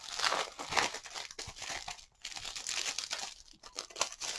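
Continuous crinkling and tearing of plastic wrap close up while unboxing a video game, with a brief pause midway before the rustling resumes.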